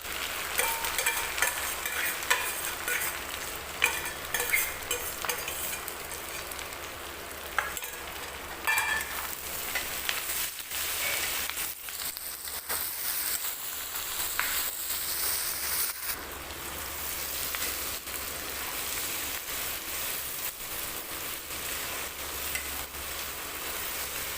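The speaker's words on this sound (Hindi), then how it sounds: "ਆਪਾਂ ਪਿਆਜ਼ ਨੂੰ ਵੀ ਉਹਨਾਂ ਕੁ ਭੁੰਨਿਆ ਜਿੰਨਾ ਕੁ ਕਰਮਾ ਨੂੰ ਭੁੰਨਿਆ ਹੁਣ ਆਪਾਂ ਇਹਦੇ ਵਿੱਚ ਕਰਮਾ ਮਿਕਸ ਕਰ ਦਾਂਗੇ" Onion fries with parwal being stirred into it in a pan, a steady close sizzle with intermittent scraping and clattering strokes, louder bursts of stirring midway, and no talk.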